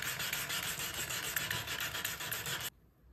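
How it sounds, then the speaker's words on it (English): A wooden kitchen cabinet drawer being sanded by hand, with steady rapid back-and-forth rubbing strokes, close and fairly quiet, stopping abruptly near the end. "we'll do a little sanding"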